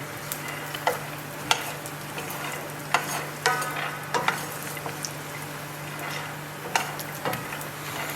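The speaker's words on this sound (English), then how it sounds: "Here I'm starting with raw peanuts and I'm just going to pan roast them." Raw peanuts pan roasting in a dry pan, soft steady sizzle beneath repeated scraping and clicking as a spatula stirs them, close and moderately quiet with no talking.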